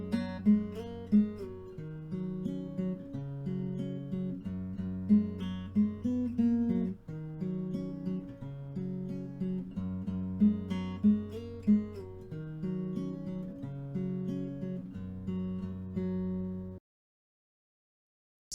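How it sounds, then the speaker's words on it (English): Guitar playing section one of the first guitar part from a song, picked arpeggiated chords in a steady repeating pattern, clear and close with no talking, ending abruptly into silence. "This is the full section 1 guitar one."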